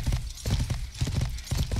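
Rapid hoofbeats of a horse in the medieval game Life is Feudal, a close, loud, rhythmic clip-clop repeating in quick groups across the short moment, with no voices.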